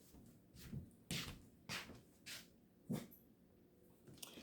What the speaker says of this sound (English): I had to have my fur baby to go downstairs because he's barking.